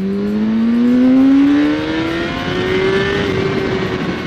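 Suzuki GSR600 motorcycle accelerating hard in second gear, engine note climbing steadily in pitch as revs build, loud and close, then easing slightly near the end with no talk.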